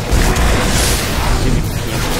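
A Nova Bomb detonating in the video game Destiny: a loud, dense, rumbling blast that fills the whole moment with heavy low-end roar and wash, sustained rather than a single sharp crack.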